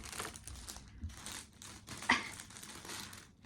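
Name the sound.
rustling of plastic being played with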